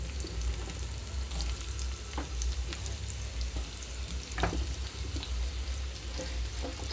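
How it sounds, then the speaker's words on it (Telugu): Bitter gourd pieces frying in hot oil in a pan, a dense, steady sizzle with scattered pops and light stirring scrapes, close and without voices. "ఇక్కడ ఆయిల్ కొంచెం హీట్ అయిన తర్వాత ఇందులోకి కాకరకాయ ముక్కలు వేస్తున్నాము"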